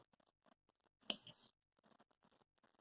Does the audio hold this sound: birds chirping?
no